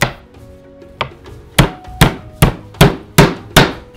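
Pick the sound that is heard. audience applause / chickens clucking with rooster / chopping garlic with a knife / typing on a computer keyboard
chopping garlic with a knife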